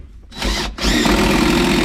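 A power drill driving anchors into a garage wall gives a short whir, then a brief pause and a longer loud steady grinding run, close and alone.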